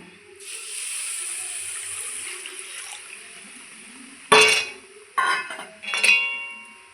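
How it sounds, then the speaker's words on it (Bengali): Milk, two bowls to one bowl of roasted semolina, is poured into a pan for semolina rasmalai; a steady soft pouring rush runs for a few seconds, then several sharp utensil clinks follow. "আমি 1 বাটি সুজি নিয়েছি, 2 বাটি দুধ দিয়ে দেব।"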